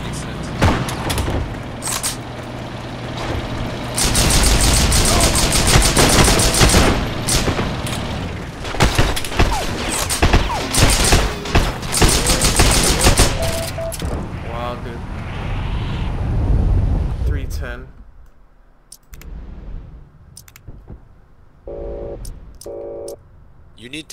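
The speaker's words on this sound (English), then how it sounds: "Why are you shooting at me?" Gunfire and explosions in the World War II shooter Heroes & Generals: loud, dense bursts of shots and booms through most of the stretch, then quieter scattered sounds, with players talking.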